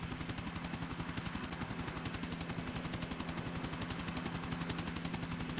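A helicopter in GTA 4: The Ballad of Gay Tony gives off a steady, rapid rotor chop that stays loud and even throughout, with no talking.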